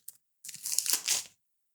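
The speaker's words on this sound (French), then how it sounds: "Donc je déballe." Foil-packed Star Wars Shatterpoint tournament kit cards being unwrapped, a short crinkle followed by about a second of close, continuous crackling and tearing of the wrapper.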